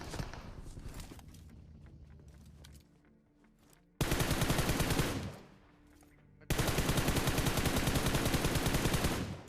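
Loud automatic gunfire in the BGMI mobile battle royale game, rapid continuous bursts separated by brief pauses, close and dense, with no talk.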